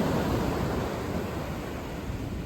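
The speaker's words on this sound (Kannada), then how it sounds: "ಐತ ಸೌಂಡ್ಲ ಗಟ್ಟಿತ್ತು ಕಡಲು ಜೋರಿತ್ತು ಅಂಚಾದ" Rough sea surf at a village beach in rainy weather, a dense continuous roar of crashing waves, loud and steady with wind noise and no voices.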